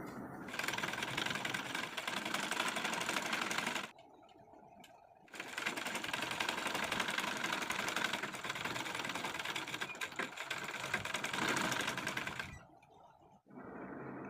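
A sewing machine stitches along piping on a sleeve in two long, steady runs of rapid whirring and clatter. A short pause falls between the runs and the motor stops at the end.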